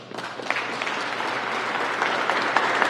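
Steady applause fills a press conference hall, many hands clapping together in a dense, even wash that holds for about three seconds with no voices over it.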